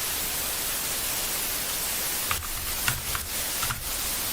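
A noise generator module inside Bitwig's FX grid produces steady soft static hiss, broken by a few brief pulsing bursts of louder filtered noise toward the end.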